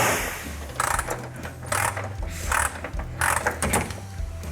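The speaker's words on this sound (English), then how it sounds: "Go underneath there with a 1/2 inch and undo the seat bolts for the front seats." A half-inch ratchet loosening the front seat bolts of a party bus, with bursts of rapid metallic clicking in uneven spurts over a low mechanical hum, close by.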